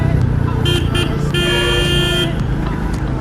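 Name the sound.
horn of Royal Enfield Meteor 350 motorcycle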